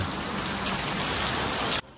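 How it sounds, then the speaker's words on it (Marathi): Steady rain falls outdoors near a village picnic spot outside Mumbai and Thane, a dense continuous hiss that runs evenly, then cuts off sharply just before the end. "एक साईडला पाऊस पडतोय।"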